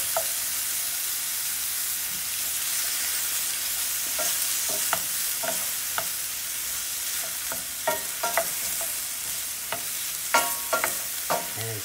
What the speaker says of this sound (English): Just a matter of sauteing these apples until they become nice and soft